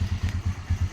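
A Motorstar X 155 motorcycle engine idling close by with a steady, even chugging pulse of low thumps, about nine beats in a second, alone without talk.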